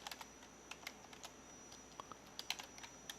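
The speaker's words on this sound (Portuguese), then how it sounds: "Pressiono Enter, Tab" Computer keyboard keys are pressed in short, irregular bursts of quiet clicks during coding work, close by and without talk.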